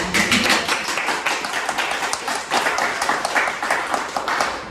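An audience at a Berlin panel on queer migrants applauds to welcome a speaker, with dense, continuous clapping from many people that stays fairly loud throughout.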